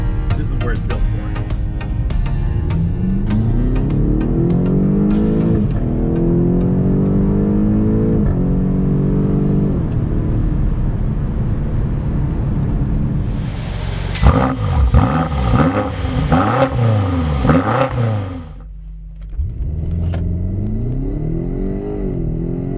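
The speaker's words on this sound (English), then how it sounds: "This is a 2016 BMW X5M." A 2016 BMW X5M engine roars loudly through repeated revs and hard acceleration, its pitch sweeping up and down between shifts before a short lull and another climb.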